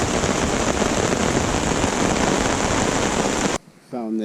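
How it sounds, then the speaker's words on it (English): Heavy rain pounds steadily on a tarp over a campsite during a canoe trip on the French River near Lake Nipissing, a loud, dense hiss that cuts off abruptly near the end, followed by a brief voice. "It's really coming down right now."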